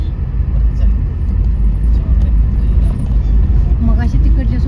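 Cars and large vehicles idle and creep in a traffic jam on a Konkan road trip in Maharashtra, a loud, constant low engine rumble with people talking over it.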